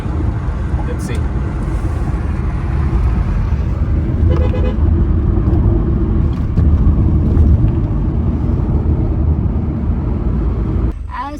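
Stalled traffic on highway NH16 in India, with a steady rumble of idling and creeping vehicles, car horns tooting intermittently near and far, and voices talking over the din.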